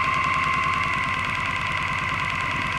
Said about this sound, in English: You can just hear the engine slowing down.